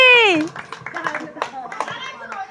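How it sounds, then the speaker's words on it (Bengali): Children at a kids' game show applauding a prize winner, scattered light clapping from a small group mixed with children's voices after a brief vocal cry. "আরাফের জন্য সবাই একটা হাততালি।"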